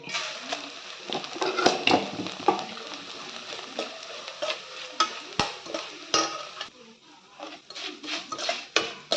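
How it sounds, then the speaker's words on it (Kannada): Flattened rice (poha) fries in a couple of spoons of hot oil in a kadai on a gas stove, giving a steady soft sizzle. A spoon stirs and scrapes against the pan with frequent clinks, and no one speaks. "ಈ ಥರ ಅವಲಕ್ಕಿಯನ್ನು ಕರಿಯಿರಿ."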